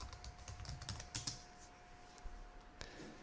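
Quiet, rapid clicking of computer keys typed in short bursts, close by with a faint steady hum behind.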